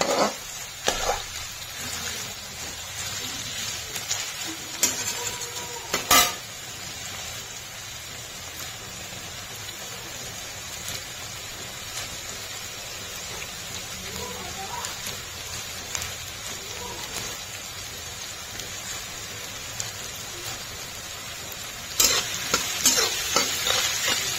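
Paneer cubes lightly frying with vegetables in a hot pan for chili paneer, a steady close sizzle broken by spatula stirring and scraping, with a few sharper clatters near the start and end.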